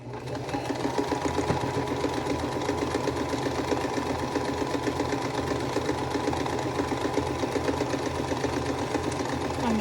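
Sewing machine stitching a quilt block for a vintage picnic block-along, running steadily and continuously close by with a fast, even mechanical hum and rapid needle chatter throughout.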